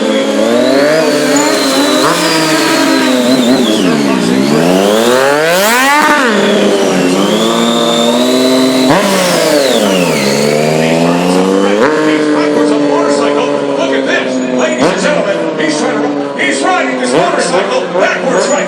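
A Triumph Street Triple motorcycle revs hard and loud during stunt riding, its engine pitch sweeping up and down in repeated surges, with an announcer's voice talking over it.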